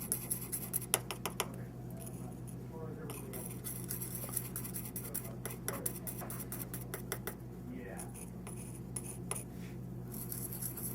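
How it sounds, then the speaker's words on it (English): Glaze material mixed into A-shade dental stain on a tray, light scraping and tapping strokes of a small instrument, close and quiet, under a person talking throughout. "what we're going to do is mix some of that glaze material into the A stain"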